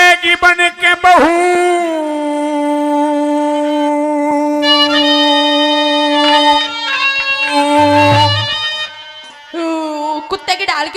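A man imitates a dog's howl with long, sustained wavering vocal tones that rise and fall, loud and close, during a Rajasthani ragni folk performance.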